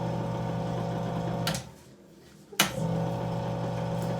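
Microdermabrasion machine in suction-only mode hums steadily with a motor drone, drops to near silence for about a second, then resumes with a click and a burst of suction.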